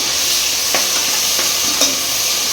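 Tomatoes, onion, green chillies and ginger garlic paste fry in a pan for gongura chicken pulao, giving a steady bright hiss with a few soft scrapes of a spatula stirring through them.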